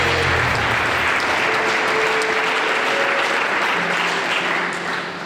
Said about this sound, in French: Clap your hands together if you are here this morning.